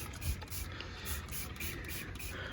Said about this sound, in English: I gotta give it a little bit more spray on it.